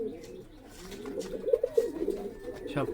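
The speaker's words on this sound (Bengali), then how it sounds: "এই যে একটা মাদি কবুতর," Pigeons cooing softly nearby, low rounded calls rising and falling in a few short phrases over a quiet background.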